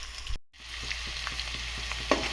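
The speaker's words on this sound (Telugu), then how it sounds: "పచ్చిమిరపకాయలు కూడా, కరివేపాకు వేగనిచ్చాం" Green chilies, curry leaves and onions frying in hot oil for an eggplant curry, a close, steady crackling sizzle with a brief dropout near the start and small pops scattered throughout.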